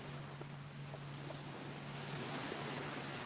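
Ocean waves wash in a steady broad rush, soft and continuous with faint wind and no talking, heard from up close with a low hum beneath.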